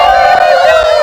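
Outdoor group game in which players imitate a chicken on command, several voices clucking and crowing at once in a loud, continuous, shrill chorus of mixed cries with crowd noise.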